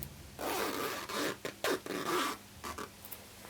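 Zipper on a handmade underbust lolita jumper skirt being run open and closed several times, short bursts of close, crisp zipping with brief pauses in between, no talk.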